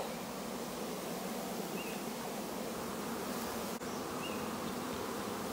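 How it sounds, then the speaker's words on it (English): A dense, steady buzzing hum of many bees flying together as a swarm pours out, continuous and fairly faint, with no voices. "So all the flying bees, look at how they're just pouring out of that."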